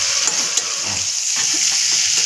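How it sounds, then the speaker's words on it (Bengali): Chicken fries in a pan without water, giving a loud, continuous sizzle and hiss with small crackles and the occasional stir, close up and alone. "ভাজছি চিকেনটা"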